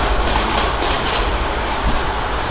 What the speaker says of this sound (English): Little train.